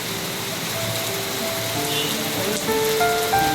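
Heavy, sudden rain pours down steadily in Congressional, Quezon City, a dense rushing hiss on surfaces, with faint tones drifting in the background.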